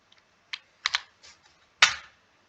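Keystrokes on a computer keyboard while entering accounting data in Tally ERP 9, a few sparse, separate taps and then one firmer press, close and clear with no talk.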